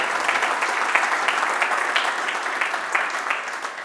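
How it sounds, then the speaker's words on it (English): Steady applause from a crowd for entrants in the Arduino Day 2019 Community Challenge: dense, continuous clapping at an even level with a few louder claps, with no talk over it. "a huge applause to all the people participating"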